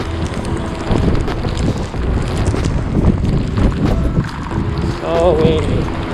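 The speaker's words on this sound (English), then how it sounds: "Oh, so windy, so windy." Strong gusts batter a microphone outdoors on a downtown Toronto street, producing loud, uneven low rumbling and buffeting, with scattered footsteps and a short voice near the end.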